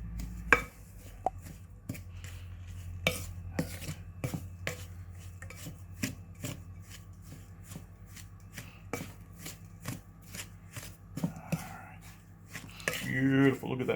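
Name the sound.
mixing cookie dough with lemon oil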